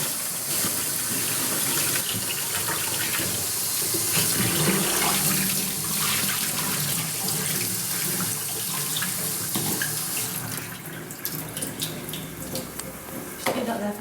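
Kitchen tap water runs steadily while something is rinsed and washed out during dal cooking, a close, continuous splashing stream with clattering handling sounds; speech is faint in the background.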